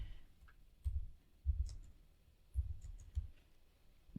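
A computer mouse is clicked while creating a new Google Drive folder. A few soft, separate clicks sound close but faint, spaced about a second apart, in a quiet room.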